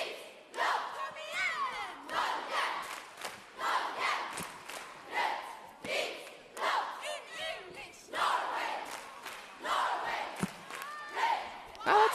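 A cheerleading team at a semifinal chants a cheer in loud rhythmic bursts, many voices shouting together in repeated phrases with short pauses between.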